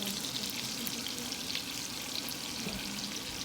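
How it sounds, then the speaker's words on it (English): Grated garlic and ginger sautéing in butter for a Punjabi saag tadka, giving a steady, close, even sizzle throughout with no talking. "Now you can see here I'm sauteing the grated garlic"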